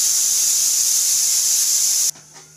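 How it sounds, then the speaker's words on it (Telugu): Pressure cooker on a stove, boiling cluster beans, lets out a loud, steady steam whistle that hisses for about two seconds and then cuts off abruptly, leaving a quieter background. "విజిల్ వచ్చేసింది."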